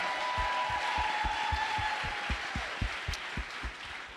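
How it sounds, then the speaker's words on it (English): An audience applauds at a vice presidential economic remarks event, a continuous broad wash of clapping with a regular low thudding beat running underneath, moderately loud and steady. "give him a round of applause anyway"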